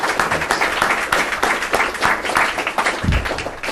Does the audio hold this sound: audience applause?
yes